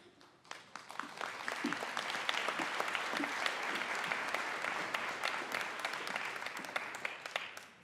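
Guests at a scholarship fundraising event give a round of applause to an award-winning community partner, the clapping swelling quickly from a quiet start into a sustained, even crowd ovation.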